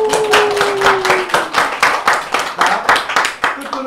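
Audience clapping at a Korean special lecture on learning English, sharp rhythmic claps close by, loud and steady for a few seconds, with a voice briefly audible underneath.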